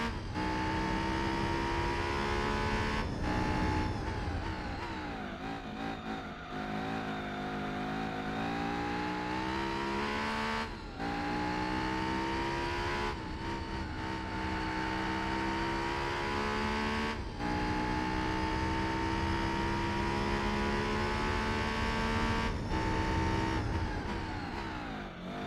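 A Ford Ka with a 1.6 engine races around Tsukuba in Gran Turismo 4, its steady buzzing engine note climbing through the revs and dropping briefly at each gear change, continuous and moderately loud.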